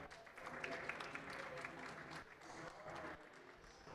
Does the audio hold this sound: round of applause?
yes